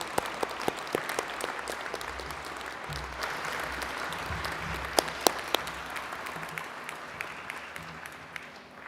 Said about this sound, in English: I just charge the graduates to applaud your guests and people who supported you.